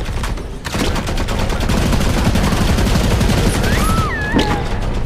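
Rapid gunfire and bursts of shots from the video game Modern Combat Versus, loud and close over continuous battle noise, with a few whooshing effect sounds near the end.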